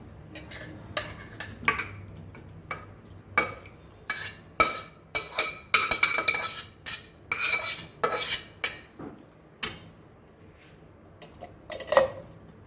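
Chayote squash and cooked dal being stirred into masala in a pan, a metal spoon scraping and clinking against the pan in irregular bursts, sometimes rapid and clustered, sometimes spaced out, close and fairly crisp with no voices.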